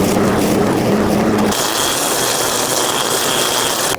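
A lawn mower engine runs steadily and loudly close by, a continuous droning rumble with a rattly edge that holds through the whole stretch, shifting slightly in pitch partway through.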